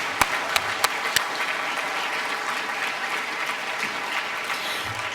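A crowd at the Garden Grove State of the City event applauds the mayor's speech with steady, fairly faint clapping heard from a distance, a few sharper claps standing out early.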